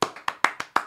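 Five sharp hand claps in under a second, close and crisp, in a quick uneven rhythm with no talking.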